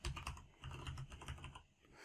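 Fingers tap quickly on a computer keyboard while entering text into a spreadsheet, a close, steady run of light clicks in a quiet room.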